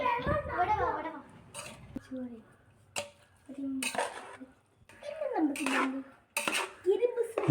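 A utensil scrapes and clinks against a pot while food is mixed for a home-cooked Eid beef dish. The sharp metallic knocks come in irregular bursts between stretches of nearby speech.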